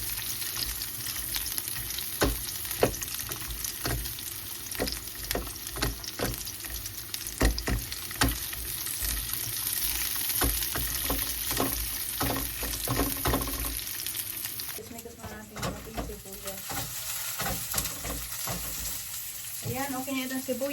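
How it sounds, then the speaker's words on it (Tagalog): Onion sautés in a pan for squid adobo, a lively sizzle with repeated stirring scrapes up close, turning quieter and more clattery partway through. "Ilagay natin itong sibuyas. Tapos initis-mitis natin hanggang lalabas yung aroma ng sibuyas"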